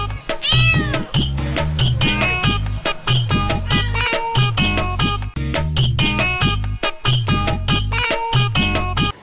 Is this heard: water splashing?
no